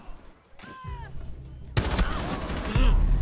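Gunfire in the tactical shooter Rainbow Six Siege: after a quiet start, a dense, loud barrage of rapid shots erupts and continues to the end.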